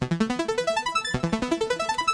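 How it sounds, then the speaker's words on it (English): A synth fed through a Roland DEP-5 effects unit plays a fast run of repeating pulsed notes with rising arpeggio-like steps, clear and steady with a brief break midway, no voices. "It's my DEP5 Roland, and then it sounds like this."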